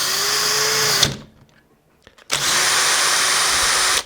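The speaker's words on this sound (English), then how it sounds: "We are going to see how fast this can put the screw" A Hychika 18V cordless impact wrench drives a screw in two loud, steady whirring bursts with a short near-silent gap between them, close to the microphone.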